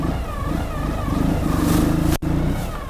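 A 2011 Ural T sidecar motorcycle idles loud and close as it is shifted into first gear, the steady engine drone broken by a brief dip near the end.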